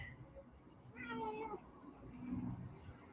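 A cat shut out behind a closed door gives a single drawn-out, muffled meow, then a fainter, lower whine, heard at a distance and quiet.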